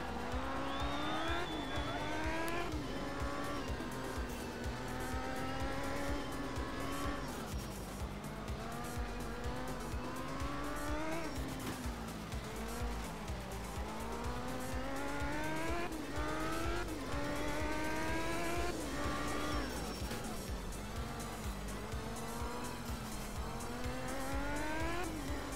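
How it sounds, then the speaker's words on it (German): Rally car in the racing game Art of Rally sliding through curves, its engine note rising and falling continuously with repeated tire squeal through the bends, loud and steady without any talk. "wie das Auto durch die Kurven gleitet."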